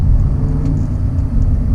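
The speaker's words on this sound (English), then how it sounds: "Oh, I love the downshifts." Red supercar engine downshifting, heard as a loud steady low rumble and drone from inside or near the car, with no distinct revving blips and no talk.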